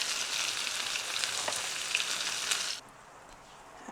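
Salmon fries in a pan with a steady, bright sizzle and small crackling pops, close and continuous, then cuts off abruptly near the end to a faint hiss.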